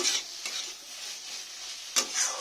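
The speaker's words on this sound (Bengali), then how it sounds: "চিচিঙ্গেটা একটু ভালো করে আমি নেড়ে দিচ্ছি" Snake gourd frying in a pan while being stirred, a steady soft sizzle with a few scraping stir strokes, the clearest one near the end, close and alone with no talk.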